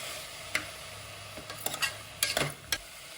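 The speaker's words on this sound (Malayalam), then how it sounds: "പിന്നെ കുരുമുളക് പൊടി മിക്സ് ചെയ്ത് കൊടുക്കാം." Intermittent spoon scrapes and clinks as pepper powder is stirred into a simmering beef kuruma, several sharp taps clustered in the second half over a faint low cooking hiss, close with no talking.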